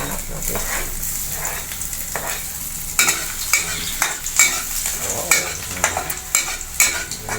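Garlic and onion sizzle in a hot pan while a utensil scrapes and stirs in repeated sharp strokes, close and steady.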